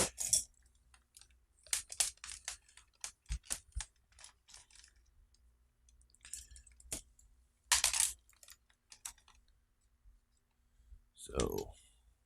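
An Agilent Technologies keyboard being handled and stowed away among tools, giving scattered plastic clicks, clacks and rattles in irregular bursts, close by and fairly quiet, with a few brief louder knocks and shuffling movements.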